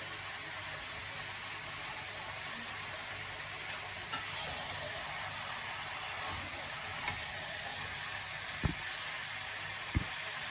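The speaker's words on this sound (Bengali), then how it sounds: "আর বাটার দিয়ে দিচ্ছি এখানে মাংসটা কষানো হইতেছে" Chicken for biryani is braised in butter in a pan, giving a faint, steady sizzle with a few soft knocks of a spoon near the end, and no voices.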